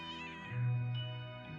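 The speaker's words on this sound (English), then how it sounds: "It was a cat." A cat in a video game gives a single loud, drawn-out meow, close and clear.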